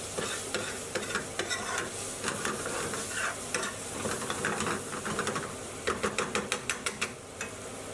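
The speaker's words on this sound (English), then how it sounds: "Next in are the chopped onions, which need to be stirred into the mixture." Chopped onions stirred and sizzling in a madras curry pan, a steady frying hiss with repeated scraping stir strokes that quicken into a rapid run of clatters near the end, close and alone.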